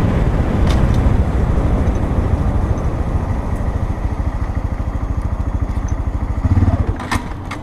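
A Honda Grom motorcycle engine while riding, a loud close buzzing drone that holds steady, dips slightly mid-way, then briefly revs up before easing off.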